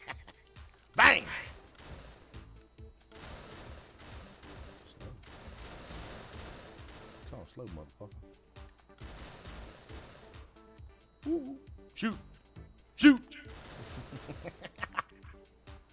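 Gunshots fired during a Pummel Party minigame: a few sharp loud bangs stand out among scattered game impacts, with excited voices talking and shouting over much of it.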